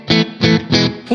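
Guitar tones through a Strymon Cloudburst reverb pedal at a longer decay setting, three evenly spaced loud strums in quick succession, each one's reverb tail blending into the next, with a fourth starting at the end.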